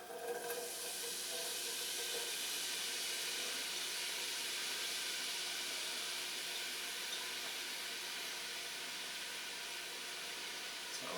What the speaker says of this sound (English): These are like two good size, you know, medium plus onions that I chopped up.